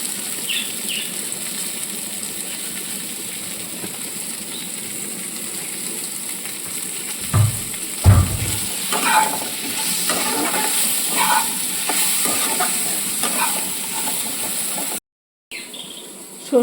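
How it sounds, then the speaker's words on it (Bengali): Turmeric fries in a pan of oil with a soft, continuous sizzle and faint hiss, broken by a few brief stirring clatters near the middle and a short cut to silence near the end; no one speaks. "এইবারে হলুদটা দিয়ে ভালো করে একটু ভেজে নিচ্ছি"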